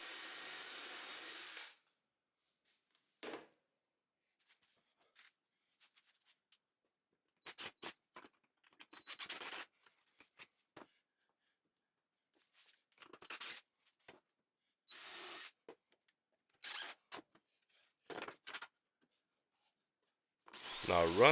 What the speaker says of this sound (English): countersink and screw the piece in place